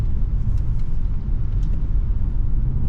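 A 2023 Nissan Altima SR AWD rounds a curve, giving a steady, loud low rumble of engine and road noise heard from inside the cabin without a break.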